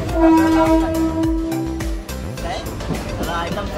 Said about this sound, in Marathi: शेवटी ट्रेन आली पटकन